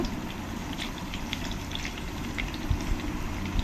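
Chopped shallots sizzle in a pan with ginger garlic paste for a King Fish curry, giving a steady, close frying hiss with small crackles and pops and no talking.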